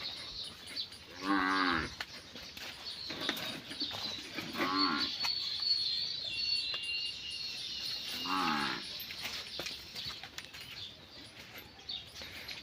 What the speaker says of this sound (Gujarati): તો ચાલો તમને એ કાબરીની વાસડી પણ દેખાડી દઉં